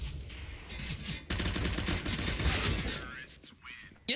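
Gunfire in Counter-Strike: Global Offensive, a dense burst of rapid shots crackling for a couple of seconds, loud and close, with players talking around it.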